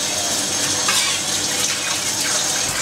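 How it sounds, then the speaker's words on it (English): A cutting board rinsed under a running kitchen tap, a loud, steady rush and splash of water close up, continuous throughout with no talk. "Every time you finish using the cutting board, gotta rinse off a good time."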